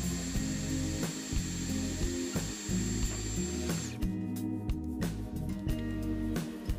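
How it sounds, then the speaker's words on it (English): A power drill whirs steadily close by while boring holes into Dollar Tree pots, its motor pitch dipping briefly with each bite before the drilling continues without talk. "I'm going to drill a couple of holes onto each side"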